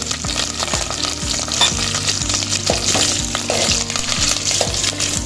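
Curry leaves crackle and sizzle in hot oil for a tomato gravy, a loud, continuous frying hiss mixed with rapid popping and the scrape of stirring.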